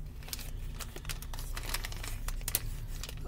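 Close, crinkly peeling and tearing of the plastic casing off Bar S bologna, with irregular crackles over a low background hum.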